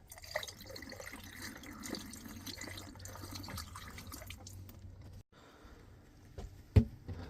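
Liquid is poured down the bathroom, shower and kitchen drains of an RV while winterizing it, a quiet steady gurgling trickle that breaks off near the end, followed by a short clunk.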